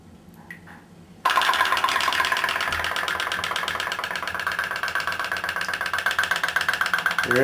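Toy steam-powered boat running in a bathtub: after a quiet moment it starts with a sudden, loud, rapid putt-putt chugging that continues steadily and close up.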